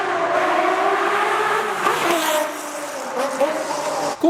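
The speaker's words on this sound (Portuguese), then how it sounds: "Coloca aí a canção de ninar que esse motor fazia." Naturally aspirated Ferrari F50 engine, a high-pitched, shrill sustained wail with rising and falling revs, loud and continuous throughout.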